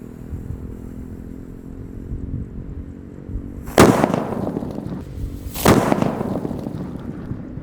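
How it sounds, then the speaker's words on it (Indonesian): Two loud, sharp bangs from a jumbo paper-wrapped firecracker made of rolled cashier paper, going off outdoors about two seconds apart, each a broadband crack over a steady low background rumble. "Di sini ada mercon buntelan kertas yang keempat yang akan kita nyalakan. Ukurannya jumbo sekali guys. Ini dari kertas kasir atau roll paper."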